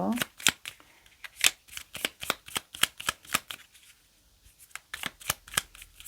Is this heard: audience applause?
no